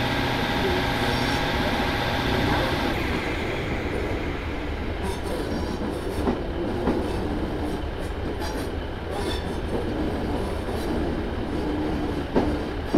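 A train departing Arrochar and Tarbet for Ardlui in a train simulator game on the Helensburgh Upper to Corrour route, with a loud, steady rolling rumble, wheel squeal and clattering that continue throughout.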